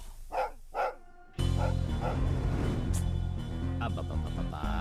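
Two short dog barks ring out at the start of a Telugu-dubbed family movie scene, then loud music takes over and buries everything after.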